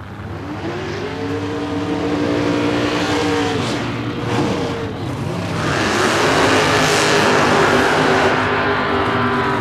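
Hot rod drag cars idle and rev in the staging lanes at a drag strip, loud close engine burble with pulsing throttle blips that swell into a stronger roar near the end.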